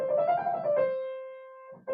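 A piano played with a different forearm approach, as taught in the Taubman method: a few quick notes lead into one held tone that slowly fades, ending with a soft thump, close and alone.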